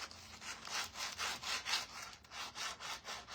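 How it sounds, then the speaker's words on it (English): Hand sanding with sandpaper on a build project, steady rhythmic back-and-forth rasping strokes about three per second, close and clear with no talking. "we need to do a little bit of sanding work"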